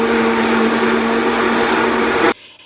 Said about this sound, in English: And I set the blender on high, which of course splashed it all up into the cap.